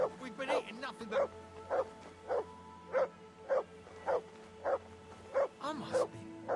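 A dog in the video game Kingdom Come: Deliverance II barks on command, about a dozen evenly spaced single barks close by, with a voice talking over them.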